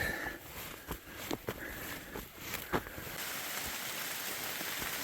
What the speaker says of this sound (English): I assume you can hear it. It's raining again.